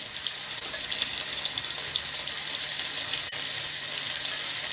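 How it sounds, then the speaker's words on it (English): Onions and other ingredients for a boerewors sausage stew frying in a pot: a steady, even sizzle and hiss throughout, moderately loud and close, with no voices. "as you can hear, they are sizzling a bit more"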